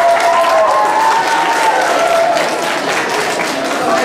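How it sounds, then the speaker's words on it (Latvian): Loud, sustained applause from a school crowd at a children's aerobics day event, a dense continuous roar of many hands clapping with a faint murmur of voices. "Aplausi!"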